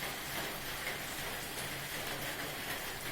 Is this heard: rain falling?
yes